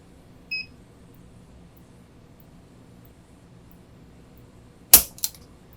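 Hammer of a Colt King Cobra .22 LR revolver with a 6-inch barrel falling on single-action trigger pulls, a faint click early, then a sharp metallic snap with a quick second click near the end, over quiet room noise.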